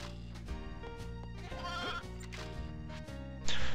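A sheep bleats in the video game Toy Story 2, set in Andy's house, cutting through steady game music and effects at moderate loudness.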